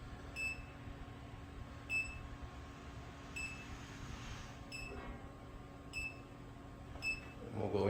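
A 30,000 BTU ventless gas heater in a greenhouse gives short, faint electronic beeps at regular intervals of about one and a half seconds, over a steady low hum.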